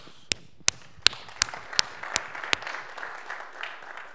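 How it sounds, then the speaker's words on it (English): Scattered claps start sharp and distinct, then blend into a softer patter of applause from a small group, fading slightly toward the end. "So it's myself that want to give you guys the round of applause."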